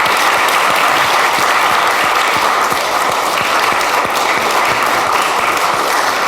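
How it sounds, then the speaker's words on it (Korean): A church congregation applauds during a merger service as a bouquet is presented to the pastor, with loud, dense clapping continuing evenly throughout, close and full. "박수로"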